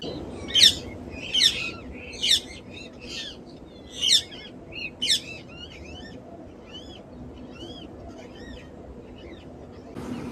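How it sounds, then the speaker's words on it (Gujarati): Parrots in a village near Botad, Gujarat, give a burst of loud, harsh screeches in quick succession, followed by softer chattering calls over a low background hum. "આમાં પોપટ કેટલા બધા આવ્યા છે"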